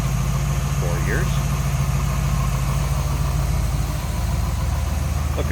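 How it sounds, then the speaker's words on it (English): A 1941 Ford Tudor sedan street rod with a small block engine idles smoothly and steadily, a continuous low rumble close by that runs throughout, with a faint brief chirp early on. "very smooth running small block"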